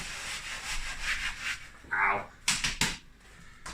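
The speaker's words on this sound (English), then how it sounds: "We'll also chuck a bit of sand here, and then I'll try and rub it right in." Sand is rubbed into carpet with scratchy, gritty scrubbing strokes, quiet and close, with several sharper rubbing bursts toward the end.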